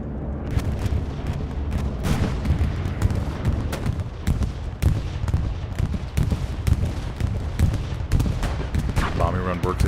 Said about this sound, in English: Bombing run works its way up to the north.